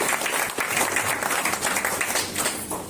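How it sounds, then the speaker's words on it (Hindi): Dense, steady applause from an audience at a business plan presentation, filling the whole stretch at an even loudness with no voices breaking through. "एक जोरदार तालियों के बीच में"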